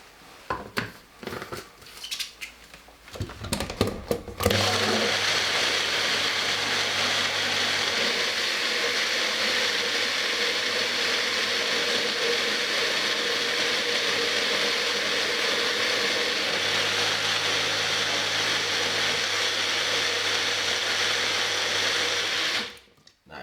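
A blender whirs continuously for nearly twenty seconds, blending a strawberry banana smoothie sweetened with honey at a juice bar, loud and steady after a few seconds of clattering handling at the start, then stopping abruptly.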